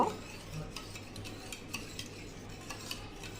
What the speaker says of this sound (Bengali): ডিমের সাথে দুধটা ভালো করে মিশিয়ে নিব